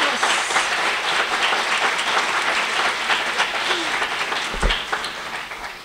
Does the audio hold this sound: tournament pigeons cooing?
no